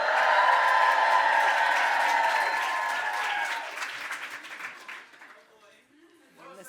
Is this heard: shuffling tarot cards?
no